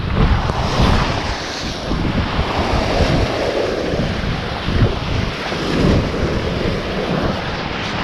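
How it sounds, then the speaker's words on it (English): Gusty squall wind roars over the microphone while waves and surf wash steadily around a sailboat at sea, a loud, continuous blustery rush with no talking. "We're about to head into a line of squalls"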